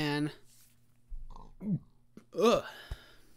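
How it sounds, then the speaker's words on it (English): Near the end a single close, throaty burp breaks out amid short bits of speech and quiet gaps. "Got a burp."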